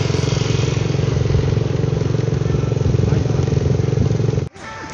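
A motorcycle engine runs steadily and loudly up close as it rolls into a beach parking lot at Padang on a sunny afternoon, then cuts off abruptly near the end, leaving the open-air background.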